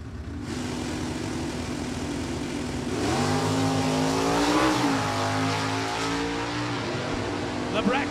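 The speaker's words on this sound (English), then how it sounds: "And Scott Giordano in the Chevy Camaro in the USA Auto Supply lane." Drag racing launch of a Chevrolet S10 pickup and a Chevy Camaro at an NHRA event, a loud sustained engine roar with rising revs that swells at mid-clip before holding steady.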